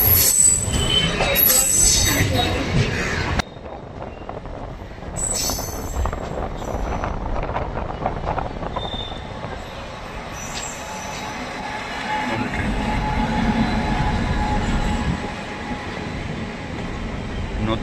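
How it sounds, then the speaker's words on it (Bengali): A Sealdah–Barasat local train pulls away near Dum Dum station, its wheels squealing and grinding on the rails with a steady rolling rumble and occasional clatter, loud and close from inside the carriage, with faint voices in the background. "বলতে বলতে আমাদের ট্রেন ছেড়ে দিয়েছে।"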